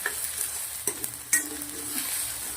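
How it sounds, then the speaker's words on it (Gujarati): Spice masala with asafoetida and crushed cumin roasting in a pan for a pigeon pea curry, a soft steady sizzle broken by a few sharp spoon scrapes and clinks against the pan, no talk. "થોડી હિંગ નાખી દઉં છું મસાલાને સરસ મિક્સ કરી દઈશું"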